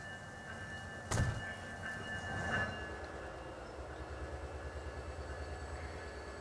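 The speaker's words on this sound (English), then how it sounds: "allow this commuter train to enter the station" Commuter train in the video game Transport Fever 2 rolling into a station, a low steady rumble with a sharp clank early on and faint tonal whines over the running noise.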